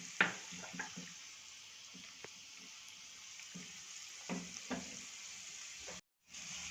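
Sesame seeds and dried curry leaves sizzling in hot oil in a pan, a faint steady hiss with scattered soft crackles and pops, quiet and close, no talk.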